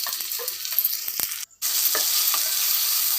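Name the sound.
tomatoes and onions sautéing in a clay pot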